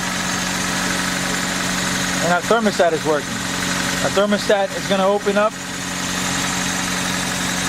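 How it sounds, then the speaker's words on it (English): A 2000 Honda Civic EX engine idles steadily throughout, a constant mid-pitched hum close by, while someone talks over it in the middle. "Turn up the engine here"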